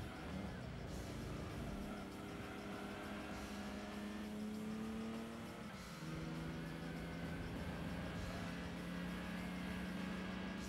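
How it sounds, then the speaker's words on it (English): Nissan Silvia with an aftermarket muffler in Gran Turismo 2, its engine revving up through the gears with rising and falling tones, a brief dip at a shift, steady and close throughout. "when you fit a muffler to a car, you're expecting the same kind of sound every time, but this car is an exception"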